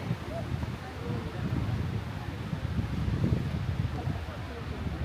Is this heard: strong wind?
yes